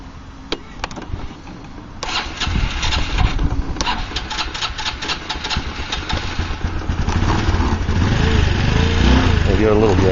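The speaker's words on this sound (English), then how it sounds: "I'll start it up for you, let you hear it" A red 1986 Honda Elite 150 Deluxe scooter starts up and idles, its small engine settling into a steady mid-pitched putter that swells slightly with throttle, loud and close, with a voice speaking briefly over it.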